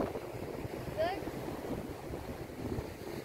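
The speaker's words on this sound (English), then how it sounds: "It's nice and windy." Wind buffets the microphone in a steady, low rush on a seafront, with a faint outdoor wash in the background.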